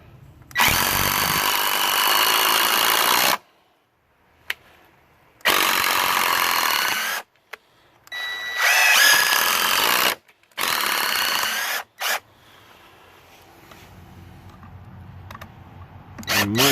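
A Craftsman C3 impact driver, model 315.ID2025, runs after a teardown and fresh lubrication. It fires in four or five loud bursts of rapid mechanical hammering, each lasting a few seconds, with quiet gaps between them.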